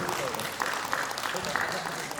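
Audience applause at a group dance competition held in Tokyo, Japan: a steady clapping crowd at moderate distance, with an announcer's voice speaking over it.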